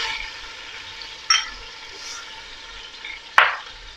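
Ginger garlic paste sizzles in hot oil with golden brown onions in a pot for beef pulao, a steady close frying hiss broken by two sharp spatter bursts.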